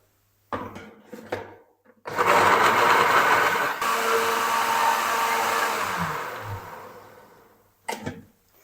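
A blender motor whirs loudly for several seconds grinding tomatoes and water into a fine paste, then winds down, with a couple of brief pulses before and after the main run.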